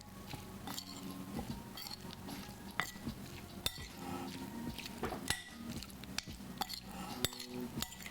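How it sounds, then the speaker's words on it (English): A spoon stirs a sauce of sesame oil, lime zest, minced ginger and garlic in a bowl, giving soft repeated scrapes and light clinks of utensil on dish, close and steady with occasional sharper taps. "Let's give this a stir"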